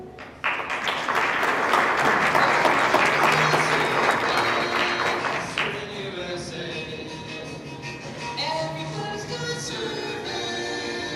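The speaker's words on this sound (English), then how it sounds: "Keep that applause going" Applause at a county pageant: a sudden burst of full audience clapping that holds for about five seconds, then drops to lighter clapping as music and scattered crowd noise continue underneath.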